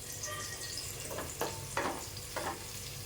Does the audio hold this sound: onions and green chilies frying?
yes